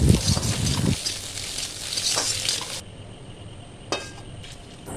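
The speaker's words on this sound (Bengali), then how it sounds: "এরপরে কড়াইয়ের মধ্যে সামান্য পরিমাণে তেল দিয়ে আগে কয়েকটা ডিম ভেজে নিতে হবে" Eggs fry in a little oil in a wok, giving a loud close sizzle with stirring scrapes that cuts off abruptly near the middle, followed by quieter clinks and faint crackling.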